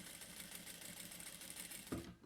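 A sewing machine stitches a child's waist bag in a fast, even run of close mechanical clatter at low volume, stopping with a brief clunk at the end.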